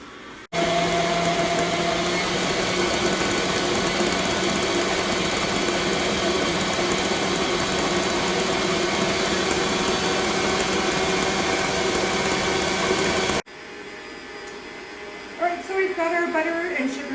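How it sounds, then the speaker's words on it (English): An electric mixer creams butter and sugar for chocolate chip cookie dough, running as a loud, steady motor whir for about thirteen seconds before cutting off, followed by quieter kitchen sounds. "So we're just going to cream this up with a mixer for about a minute."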